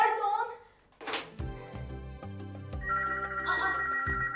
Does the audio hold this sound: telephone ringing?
yes